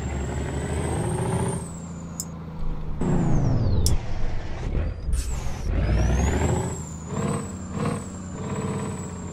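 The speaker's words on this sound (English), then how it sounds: "It's kind of got that straight pipe sound to it a little bit." Truck engine with a straight pipe exhaust in American Truck Simulator, a loud, continuous rumbling drone that rises and falls with revving and gear changes, broken by sharp hissing bursts like air brakes.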